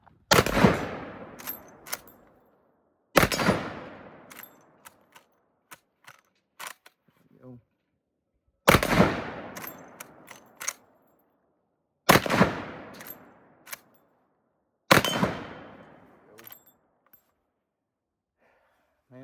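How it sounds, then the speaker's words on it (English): A Henry All Weather .45-70 rifle fires five loud, sharp shots a few seconds apart, each ringing out and followed by softer mechanical clicks. "So let's go ahead and take a few more shots with her."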